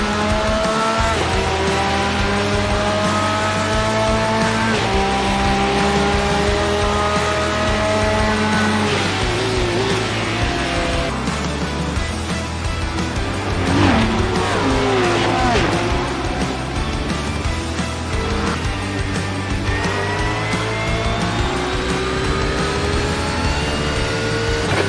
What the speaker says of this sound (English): as this now has become a 5-car battle.